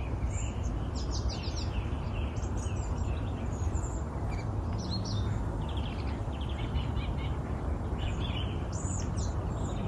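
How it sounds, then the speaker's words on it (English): Small birds chirp and tweet intermittently over a dense, steady background hiss in a New Zealand garden, the calls light and scattered with no talking. "Some birds coming to visit now."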